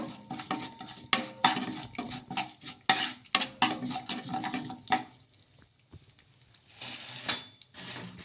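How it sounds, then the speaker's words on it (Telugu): Sesame and mustard seeds being stirred into a cooking mixture in a pan, with bursts of scraping and rattling strokes that pause briefly and resume, fairly close and moderately loud with no talking. "అలాగే కొన్ని నువ్వులు ఇవన్నీ వేసుకొని ఒకసారి బాగా కలిపేసుకుందాము"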